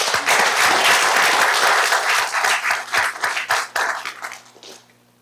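A room at a school board meeting claps for a student: loud, dense applause that holds steady, then thins into scattered claps and fades out near the end.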